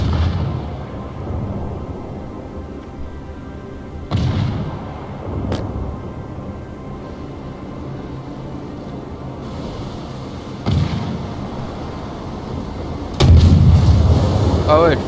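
British cruiser guns fire in World of Warships, several separate booming shots spaced apart over a low steady background, the last and heaviest salvo near the end.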